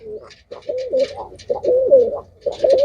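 Pigeons coo repeatedly at close range, a series of low throaty rolling calls with short pauses between them and no talking.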